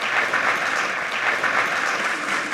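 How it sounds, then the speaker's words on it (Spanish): Steady applause from a conference audience welcoming a speaker onto the stage, dense and sustained throughout, with a faint crowd murmur underneath. "La recibimos con un fuerte aplauso"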